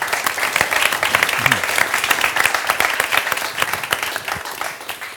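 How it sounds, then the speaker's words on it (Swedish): An audience applauds Lars after a talk on cycling and sustainable cities, a steady, dense clapping that holds for several seconds, close and loud with no speech. "Ska vi ge Lars en applåd?"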